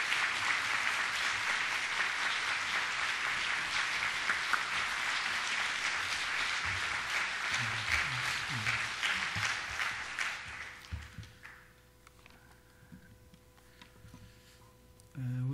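A church congregation bursts into warm, sustained applause to welcome a pastor to the front, the clapping loud and steady for about ten seconds before fading into room noise and faint movement.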